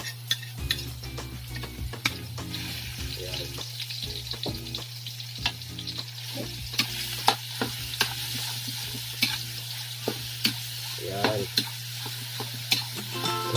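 Pork sizzles steadily in a hot pan while a utensil stirs and scrapes at intervals, with a low constant hum underneath.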